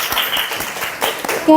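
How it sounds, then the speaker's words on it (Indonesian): Students clap for a group in a classroom, a brief patter of applause with a voice speaking over it before it cuts off. "Tepuk tangannya"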